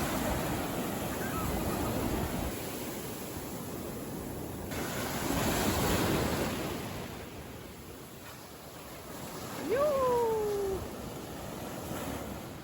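Small, gentle waves wash onto a beach in slow, soft surges of broadband rush. A cat-like meow cuts in briefly near the end.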